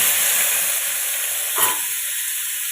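Lightly boiled potatoes fry in a mix of oil and ghee, giving a loud, continuous sizzle with one short burst of hiss partway through, and no talk.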